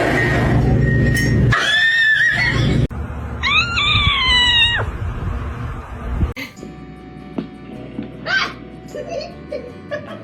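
A kitten meows repeatedly in high, wavering cries, loud and close, with some rustling and background noise between the calls.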